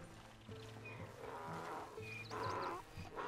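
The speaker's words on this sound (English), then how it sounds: "It's a donkey." A donkey in Red Dead Redemption 2 brays with rough, tonal heaving calls repeated in short bursts, fairly close over quiet game ambience.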